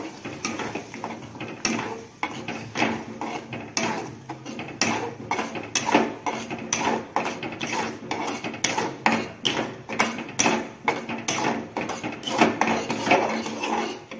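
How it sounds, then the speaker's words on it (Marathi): Urad dal being stirred in a cooking pot, with a steady run of clinking, scraping spoon-on-metal taps and knocks repeating throughout at close range, with no voices. "याच्यामध्ये ही डाळ टाकून द्यायची, त्याला पण चांगलं हलवून घ्यायचं"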